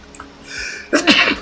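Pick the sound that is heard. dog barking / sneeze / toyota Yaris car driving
sneeze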